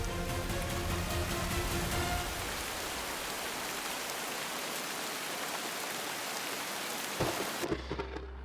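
Heavy rain pours steadily with low rolling thunder beneath, a dense close hiss of drops that carries on until it cuts off abruptly near the end, followed by a brief low hum.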